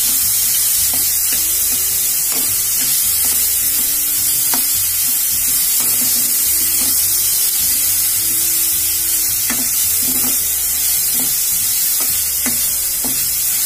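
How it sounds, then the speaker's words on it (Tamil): Tomatoes cooking in a hot pan with coriander and curry leaves for chow chow masala, giving a loud, constant hissing sizzle with a spatula stirring and tapping now and then, close up and without talk. "தக்காளி வேகுது"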